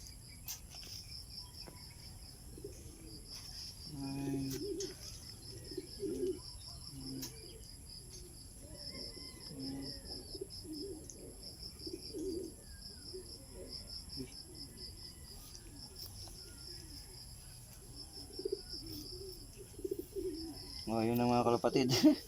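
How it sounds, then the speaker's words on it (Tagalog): Racing pigeons in a Rosario, La Union loft coo in repeated low, throaty bursts, with crickets and other birds chirping in the background and a louder rustle near the end. "inuwian tayo ng ating ibon na si Kiling"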